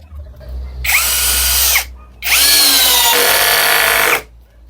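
ECOSEN 16V cordless drill/driver sinking an 8 mm screw into wood with no pilot hole, driven through a 13 mm socket: two long, loud whirring bursts with a short pause between them, the second run straining and shifting pitch as it bites.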